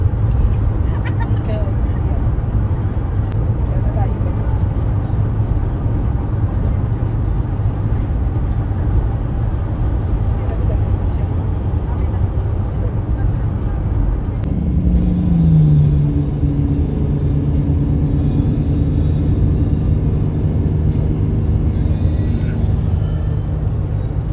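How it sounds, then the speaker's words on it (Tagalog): Steady low rumble of highway traffic in a long jam, a dense wash of car and bus engines with a brief louder vehicle passing midway, and people talking over it. "Mahaba yung traffic"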